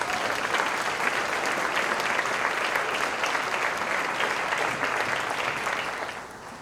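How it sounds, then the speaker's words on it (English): Steady applause from an audience at the 2019 City of Destiny Awards for Abby Murray after her poem, a dense wash of many hands at moderate distance that fades slightly at the end. "Let's give Abby Murray one more round of applause, please."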